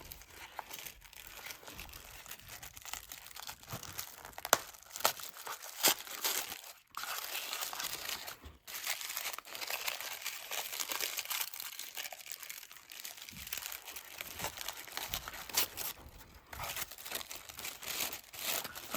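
Tissue paper heavily secured with tape crinkles, crumples and tears as an art advent calendar gift is unwrapped up close, a long, continuous rustling with brief pauses and sharper rips and no talking.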